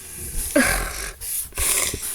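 A large dog growls in a video game, a short close snarl with snorting breaths and a faint whimper, heard alone.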